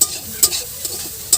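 Mustard greens stir-fried in a pan at a village cooking setup, a steady close sizzle broken by a few sharp scraping stirs.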